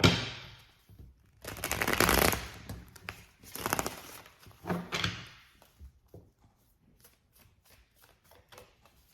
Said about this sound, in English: let's go ahead and I'll give it a shuffle